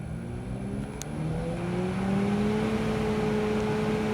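Freezer fan motor hums steadily once switched back on, a continuous low drone with a faint tonal whine rising slightly in pitch, alone and unchanging throughout.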